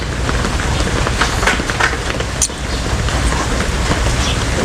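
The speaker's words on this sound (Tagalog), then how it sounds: "At umuulan na ulit." Steady rain falls in a dense, even hiss, with scattered droplets spattering on a nearby surface; no talking.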